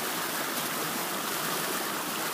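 A stream pours past a stream-powered water wheel, producing a dense, even rushing wash of water that stays steady and fairly soft throughout, with no voices.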